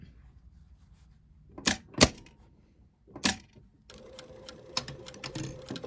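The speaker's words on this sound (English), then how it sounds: "I'm just going to start sewing just in from the fold line" A sewing machine stitching a fabric pocket near a fold line, running in short separate bursts with pauses between them, then settling into a steadier stretch of whirring and clicking close by.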